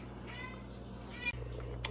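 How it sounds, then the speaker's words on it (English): A house cat meows a couple of times in a home kitchen while chili simmers on the stove, its drawn-out cries rising over a steady low hum of background noise. "Here's a visit from my kitty."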